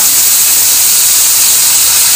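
Sliced potatoes sizzle loudly in hot oil, a dense, continuous hiss close to the microphone without pause.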